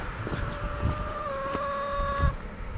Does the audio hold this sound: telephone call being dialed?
no